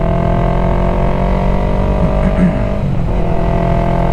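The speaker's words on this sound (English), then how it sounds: "you'll just blip it down and you'll raise your RPM each time doing it" A motorcycle engine drones loudly and steadily close by as the rider blips the throttle while downshifting, the pitch dipping briefly and then climbing again.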